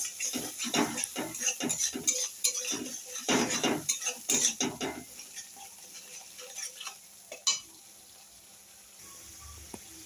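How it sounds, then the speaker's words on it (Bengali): Metal spoon scrapes and clinks against a pan while spice masala with salt and turmeric is stirred, a busy run of irregular scraping taps that thins out and quiets toward the end, with no voices. "ভালো করে মশলাটা কষিয়ে নেবো।"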